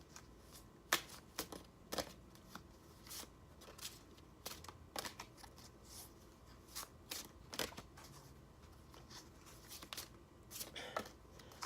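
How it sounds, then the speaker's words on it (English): Goddess oracle cards being shuffled by hand give a quiet, close run of crisp riffling flicks and soft clicks in irregular bursts. "I'm going to pull some more goddess cards to see if there's any more messages here."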